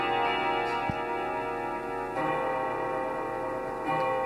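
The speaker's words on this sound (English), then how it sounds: "I'm gonna let the clock go through this little chiming music here" A clock ticks steadily while a soft chiming tune rings through, sustained tonal notes with a few brighter strikes over a quiet background.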